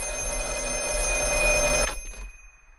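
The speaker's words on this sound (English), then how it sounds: "he starts receiving phone calls from a black phone that is on the wall." A black wall-mounted telephone rings loudly in the horror film The Black Phone, a bright metallic bell trill that carries for about two seconds and then cuts off abruptly into near silence.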